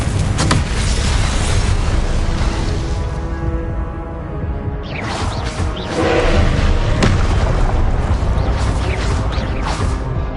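The Confringo explosive spell goes off in the Hogwarts Legacy video game: loud, dense booming blasts and rumbling impacts pile up almost continuously, briefly easing before erupting again.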